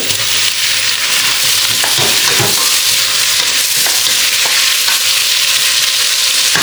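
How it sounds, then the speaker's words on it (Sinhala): Tomatoes frying in a hot pan while being stirred, for a dried-fish biryani, a loud continuous sizzle with scraping stir strokes and small knocks throughout, close up and with no talking. "දැන් මම එකතු කරනවා මේ තක්කාලි ටිකත් මෙහෙම මේකට"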